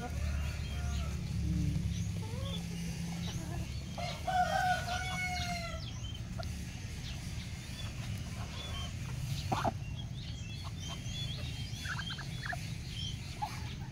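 Chickens and ducks feed together in a yard, with scattered clucks, quacks and squawks over a constant low rumble of background noise, and a voice speaks intermittently.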